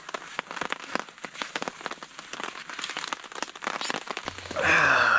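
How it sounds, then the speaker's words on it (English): Steady rain patters on a surface with dense, crackling drops, growing heavier toward the end. "here comes the rain again."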